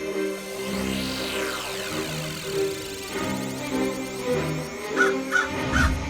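A cartoon crow caws in a Hindi Panchatantra-style animated story, with several harsh caws standing out near the end over a busy musical background.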